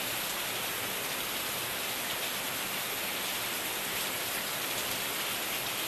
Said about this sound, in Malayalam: ആക്ച്വലി ഇവിടെ നല്ല മഴയാണ്.